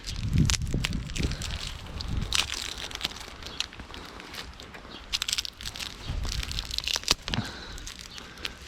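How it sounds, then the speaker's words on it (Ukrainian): Adhesive tape being pulled off the roll during fig cutting propagation, irregular crackling and tearing bursts close by, some sharp and loud, others faint rustles in between. "Разматываю скотч."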